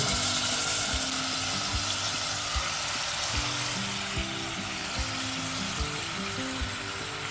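Mutton sizzling steadily in hot oil in a pressure cooker, a dense crackling hiss with soft regular thumps underneath, close and moderately loud.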